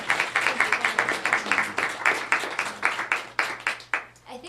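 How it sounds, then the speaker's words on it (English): A small poetry-reading audience in a parlor claps for the poets, with separate claps in an uneven rhythm that swell and fade in short waves against a faint low hum. "let's have another round of applause"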